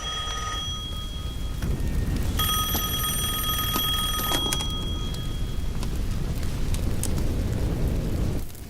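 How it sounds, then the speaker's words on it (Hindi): A phone ringing in a dubbed South Indian action film scene, a shrill electronic trill repeating over several seconds above a dense rumbling background, with no speech. "वो फोन है।"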